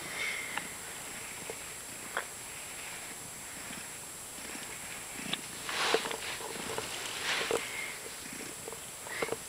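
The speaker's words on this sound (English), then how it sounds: "I hear him purring" A soft, continuous purr rumbles close by, with faint snuffles and small rustling movements over a steady hiss.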